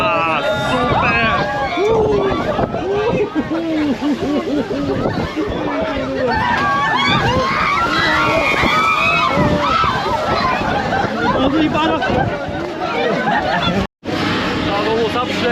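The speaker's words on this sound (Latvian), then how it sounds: "Tā nu mūs apšļakstījā trakais vilni." Big waves crash and slosh over a yacht on rough water, a loud continuous churning of splashes and spray with excited voices talking and shouting throughout and a brief dropout near the end.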